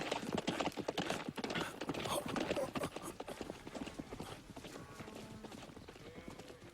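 Horse hooves clip-clop in a steady rhythm on open ground, fairly close and clear, with an occasional whinny and some soft background voices.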